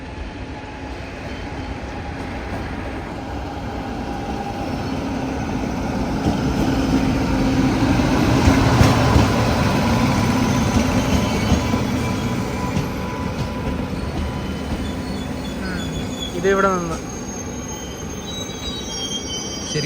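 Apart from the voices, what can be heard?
Duronto Express train passing, Mumbai Lokmanya to Ernakulam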